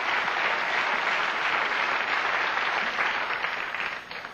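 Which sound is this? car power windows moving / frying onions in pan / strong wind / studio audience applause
studio audience applause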